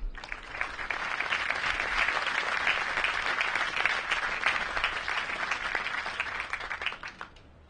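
Sustained audience applause for soldiers at an Army change of command ceremony for the 3d U.S. Infantry Regiment, dense steady clapping from a large crowd that holds for several seconds and then tapers off.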